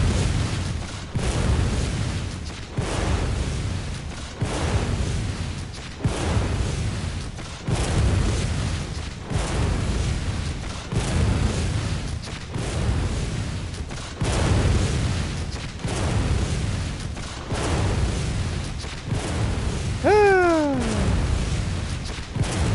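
Bloodborne combat throws out repeated heavy gunshot blasts and explosive booms about every second and a half, loud and steady throughout, with a brief creature cry near the end.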